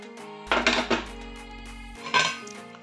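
Salt and spices are stirred with a metal utensil in a bowl, producing a few clinking scrapes and knocks in two brief clusters over a low steady background hum, with no talking.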